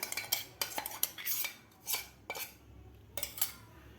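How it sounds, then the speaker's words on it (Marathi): A spoon repeatedly clinks and scrapes against a glass bowl as milk masala powder is transferred, several sharp taps spaced irregularly at close range with no voices. "एका काचेच्या वाटीमध्ये आपल्याला हा मसाला काढून घ्यायचा आहे"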